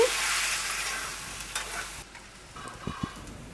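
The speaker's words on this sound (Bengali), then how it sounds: "এবার আমি এর মধ্যে 1 কাপ পরিমাণ প্রথমে দুধ দিচ্ছি।" Milk goes into a pan of sautéed shukto vegetables, a Bengali mixed vegetable dish. A strong close sizzle fades quickly into a softer simmer, broken by a few stirring scrapes and small bubbling knocks.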